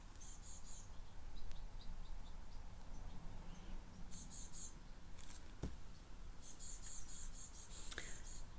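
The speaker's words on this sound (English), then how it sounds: "I don't know if you can hear the birds. I've got some baby birds outside my window" Baby birds chirping outside a window, faint bursts of high thin cheeps in short clusters spread across a quiet indoor background, with no talk.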